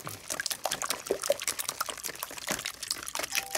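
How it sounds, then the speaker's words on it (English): Eggs beaten with half a cup of heavy whipping cream in a bowl, giving a rapid, steady series of wet sloshing whisk strokes at moderate loudness, with no talking. "I've got a half a cup of heavy whipping cream, and I'm just gonna beat these eggs up."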